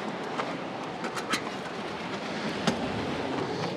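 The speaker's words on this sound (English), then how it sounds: "Wind noise. Sorry about the wind today," Strong wind outdoors at the beach roaring across the microphone, a dense continuous rumble and hiss with small gusting bumps, no voices.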